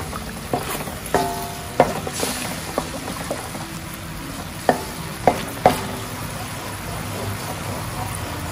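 Sauce being stirred into fried crab in tamarind style, with a low bubbling sizzle broken by several sharp clinks of a utensil against the pan at irregular intervals, near and without speech.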